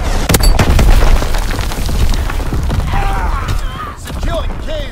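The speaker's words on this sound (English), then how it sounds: "Incoming enemy artillery!" Incoming enemy artillery striking in a WW2 video game: heavy booming impacts up front, then rumbling debris and mechanical clatter, loud and close, with voices calling out over the din.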